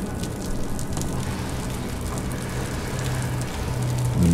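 Steady rain pours in the horror game Wick, a dense, even hiss of drops on surfaces that fills the whole moment and swells slightly louder toward the end, with no voices.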